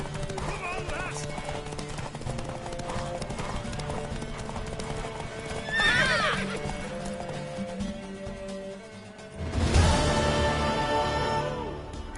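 A mare gallops with rhythmic hoofbeats in The Witcher 3, breaking into loud whinnies midway and again near the end, while character voices speak over the running horse.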